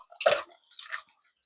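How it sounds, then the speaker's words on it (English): Roma tomatoes drop into a pot of water on the stove for blanching, making two short, close splashes and plops with a brief watery trickle after. No one speaks. "Just putting them in that water to slip the skins off."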